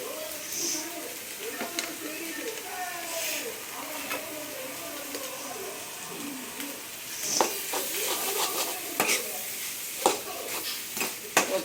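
Egg fried rice with carrot, beans, garlic and pepper sizzles in a pan while a spatula stirs and scrapes, clattering sharply in bursts that grow louder toward the end, with a voice speaking now and then.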